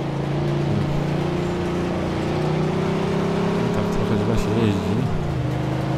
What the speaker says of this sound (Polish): no nie widzisz, że super fura jedzie? Z przebitą oponą?